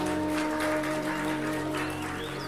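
Audience applause at a Hindi spiritual discourse on worship and the guru: a steady, dense wash of clapping that stays fairly loud throughout, over a constant low hum from the hall's sound system.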